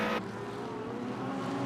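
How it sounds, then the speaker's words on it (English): A Comet Racing Ferrari GT race car accelerating out of the final corner at Okayama during qualifying, a steady engine drone heard from on board after a brief louder burst at the start, with no talk. "Again, even out of the final corner, you can see how narrow it is. Accelerating out of turn 13."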